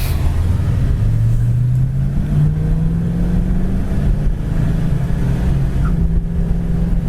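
A 1968 Ford Mustang drives along with its engine droning loudly and rising in pitch through the gears, one audible shift partway, the engine note steady and close throughout without talk.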